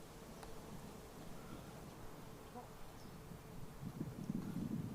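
Honey bees hum around a colony being extracted from a rotten tree outdoors, a faint, continuous drone that swells slightly near the end, mixed with soft rustling and handling sounds.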